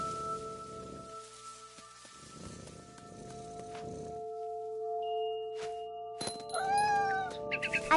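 A cat in the video game What Remains of Edith Finch lets out several high, wavering meows and caterwauls near the end, after soft rustling and steady humming ambient tones.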